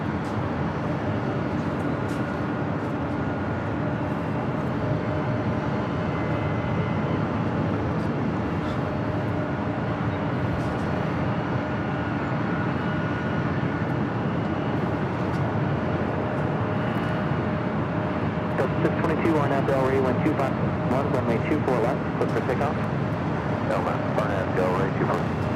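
A Delta Airlines Boeing 737-900ER jet sits on runway 24 left at LAX, giving off a continuous, fairly loud rumble with a faint steady whine that grows slightly rougher near the end.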